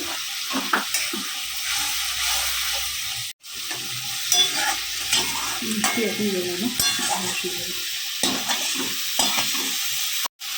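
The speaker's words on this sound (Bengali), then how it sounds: "মশলাটাকে হালকা ভেজে নিই কষিয়ে নিলাম আর কড়াইশুঁটিটা এখন আমি দিয়ে দেবো" Spice paste fries with green peas in a pan, a close, continuous sizzle broken by scraping stirs and occasional utensil clicks, with two short gaps.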